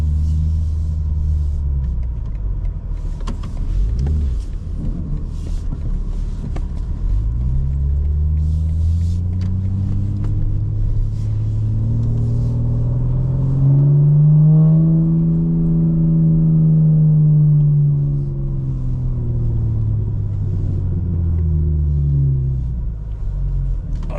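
A 900 hp 2025 BMW M4 Competition xDrive drives through a city center, heard from inside the cabin. A loud, continuous low engine drone rises and falls in pitch as the car accelerates and eases off.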